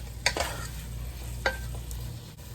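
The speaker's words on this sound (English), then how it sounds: "You're gonna go ahead and mix this all together." Meat being stirred back into a pot of beef stew, a few scraping spoon strokes over a low steady sizzle, close and fairly quiet.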